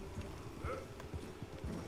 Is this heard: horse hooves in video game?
yes